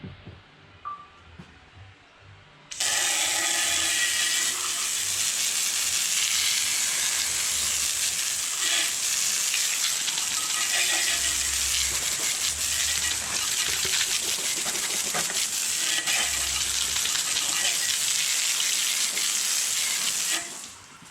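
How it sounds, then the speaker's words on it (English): Water sprays steadily onto a freshly degreased part after hand-brush scrubbing, a loud continuous hiss that starts abruptly and runs unbroken almost to the end, with no talking. "Just gonna rinse her off."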